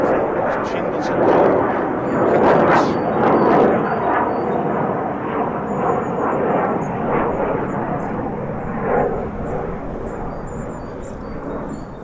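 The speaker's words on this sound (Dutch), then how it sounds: "Straaljager, vliegtuig, helikopter overgevlogen." A jet fighter, airplane or helicopter flying over, a loud broad roar that swells and holds steady for the whole stretch before easing slightly, with faint outdoor sounds on top.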